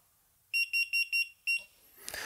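A WiFi door intercom keypad, model PL960QPM, gives a confirmation signal of five short, clear electronic beeps in a quick even row, close and alone, followed by a brief rustle.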